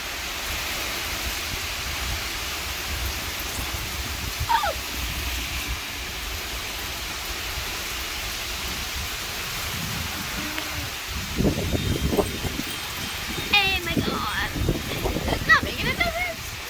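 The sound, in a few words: heavy rain and wind during a severe storm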